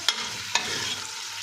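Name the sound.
sliced onions sautéing in oil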